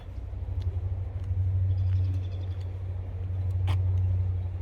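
Loud cars pass on a nearby highway during a nature walk, a steady low motor rumble and whoosh of traffic swelling and easing, with faint bird chirps above it.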